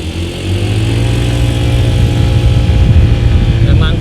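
A Honda ADV scooter engine running on its stock exhaust while climbing a hill, a loud, steady, close drone that holds its throbbing pitch throughout.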